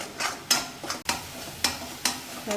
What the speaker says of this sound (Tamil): தக்காளி நல்லா வதங்கிட்டு இருக்கட்டும்